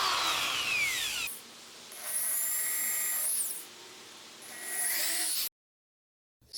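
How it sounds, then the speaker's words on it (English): A power drill bores pilot holes into a wooden shelf for flanges, the motor whining up in several bursts with pauses between, close and loud, ending in silence. "Make sure you don't drill all the way through."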